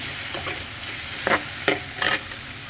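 Tomatoes with tamarind cook in a pan for a pachadi, a steady soft sizzle with a few brief stirring scrapes near the end, close and alone without speech.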